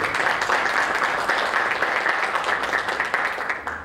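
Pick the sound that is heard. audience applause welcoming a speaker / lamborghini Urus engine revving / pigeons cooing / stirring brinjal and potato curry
audience applause welcoming a speaker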